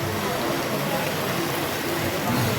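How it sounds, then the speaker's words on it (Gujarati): Heavy rain pours steadily close by, a dense, loud and unbroken hiss, while water runs off a tin-sheet roof at a temple. "જોરદાર વરસાદ આવી રહ્યો છે"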